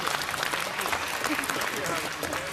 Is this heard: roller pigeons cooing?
no